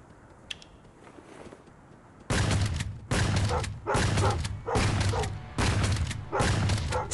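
Weapon fire in the survival shooter game LifeAfter, five or six loud bursts of shots in steady succession, each lasting about half a second with short gaps, after a quiet start.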